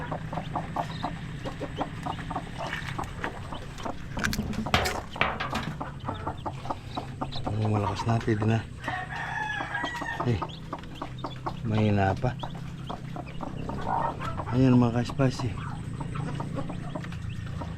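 Native chickens cluck and chatter in short bursts throughout, with people talking nearby over a steady outdoor background.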